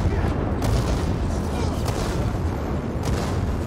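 Bombs exploding in Dying Light 2, a dense roaring blast of booms and crackling debris, loud and close, with sharp impact spikes through a constant barrage and a voice underneath.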